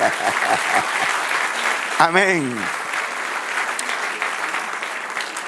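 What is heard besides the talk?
congregation applauding in church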